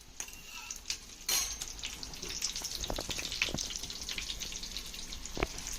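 Mutton keema cutlets fry in a pan with a soft, fairly quiet sizzle, broken by a few light clinks and scrapes of utensils.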